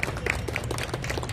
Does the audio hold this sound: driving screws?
no